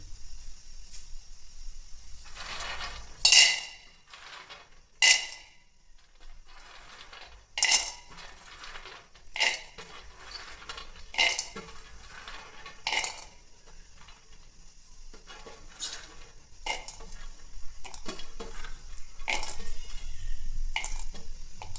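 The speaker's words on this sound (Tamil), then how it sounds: "நிலக்கடலையை போட்டதுக்கப்புறம் அதனுடைய தோல் வந்து லைட்டாக கருப்பு நிறமாக வர மாதிரி வறுக்கணும்" Peanuts dry roast in a vada pan while a metal spoon stirs them, giving scattered sharp clinks and scrapes against the pan over a low, steady background hiss, close and fairly loud.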